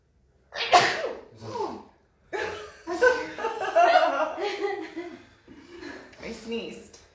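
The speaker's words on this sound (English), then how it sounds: "I sneezed." A person sneezes sharply near the microphone in a quiet room, followed by chuckling and breathy laughter in short bursts.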